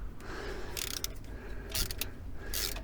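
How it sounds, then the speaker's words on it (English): A socket wrench ratchets a nut on the fuel pump of a VW T3 TDI, giving short bursts of quick clicking separated by brief pauses, close and clear against a low background rumble. "we can get our socket in on that as well"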